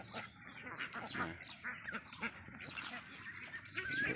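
Mixed-breed ducks, including green-headed ones, grazing on grass in the evening, giving repeated nasal quacks in irregular bursts, fairly near but quiet.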